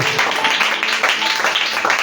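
Church congregation applauding as an offering of acclamation during a French-language worship service, dense steady clapping from many hands with a voice over it.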